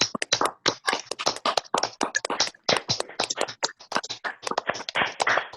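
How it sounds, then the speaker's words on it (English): Scattered claps from participants on a Zoom call during an online LGBT poetry open mic, heard as dense, uneven bursts of hand claps from several people through video-call audio, with no talk over them. "Can we get another massive round of applause for Jova?"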